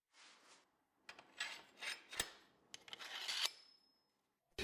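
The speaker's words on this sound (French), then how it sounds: "Il me reste juste à nettoyer les lignes à la lime." A metal file rasps over the traced lines of a handmade replica of the Shusui sword guard from One Piece, in several close, short, uneven scraping strokes separated by brief pauses, quiet and without talk.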